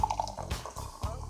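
Pepsi soda is poured from a bottle, giving a brief, close splash with a few dripping, bubbling gurgles over about a second.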